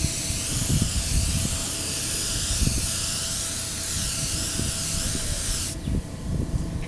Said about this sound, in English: we're gonna just keep painting it until it turns yellow